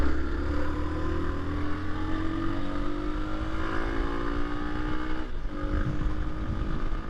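A 2022 Hero Xpulse 200 4V motorcycle engine revs freely while being ridden, its pitch climbing steadily before dropping off near the end, with wind noise rushing across the microphone throughout.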